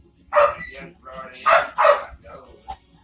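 A dog barks in a few sharp bursts at close range, mixed with people talking over it.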